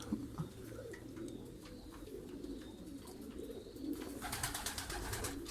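Pigeons coo steadily in a large pigeon loft holding ornamental breeds, including hünkari birds, a soft continuous murmur of overlapping calls at close range with occasional flutters and rustles.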